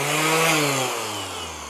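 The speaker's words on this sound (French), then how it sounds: "je crois que ça s'appelle une ponceuse excentrique" A battery-powered random orbital sander whirs close by, its motor pitch sliding steadily downward as it spins down over under two seconds.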